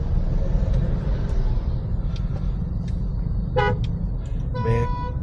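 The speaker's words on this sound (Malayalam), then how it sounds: "ബാക്കിന്ന് വണ്ടിയുടെ ഓർണടിക്കുന്നത്" Car horn honks sound from a vehicle behind on a busy road in Kerala, heading toward Kottayam, with steady traffic rumble throughout and a few short toots, the clearest two arriving close together near the end.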